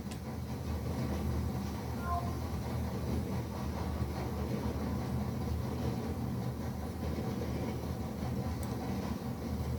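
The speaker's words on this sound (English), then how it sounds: "there's a train behind me as well" A train rumbles steadily through a tunnel area in Red Dead Redemption 2, a dense, continuous low roar with mechanical clatter that holds at an even, fairly loud level from start to finish.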